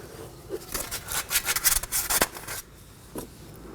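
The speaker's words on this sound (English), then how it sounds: "Move the sensor out of the way and brush the location." A brush scrubbing the corroded wheel speed sensor mount on a Toyota Corolla, a series of close, quick scratchy strokes that come in short bursts and then trail off into quiet.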